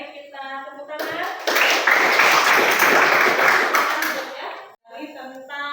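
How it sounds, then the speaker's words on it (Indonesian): Classroom audience clapping hands in applause, a dense burst of claps lasting about three seconds, loud and close, with a voice speaking briefly before and after it. "Baik, kita tepuk tangan."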